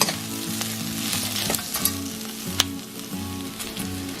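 Garlic fries in a pan with a steady, close sizzle, broken by repeated scraping and clinking from stirring with a utensil.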